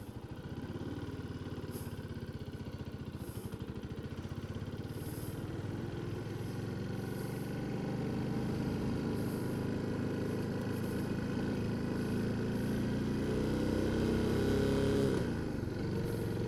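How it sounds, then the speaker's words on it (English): A big single-cylinder thumper motorcycle is ridden on an easy Sunday morning cruise, its engine a continuous low, pulsing drone that holds fairly steady and swells slightly toward the end, with intermittent wind buffeting and no talk. "I always love riding this bike. The sound of it's a big thumper"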